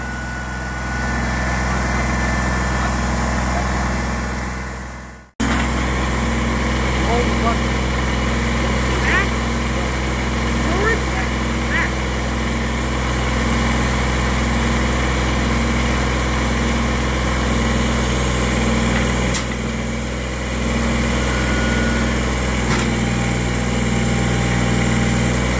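A tractor engine idles steadily throughout with a low, constant rumble, cutting out briefly once before resuming, with occasional faint clanks.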